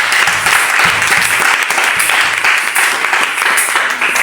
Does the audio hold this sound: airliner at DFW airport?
no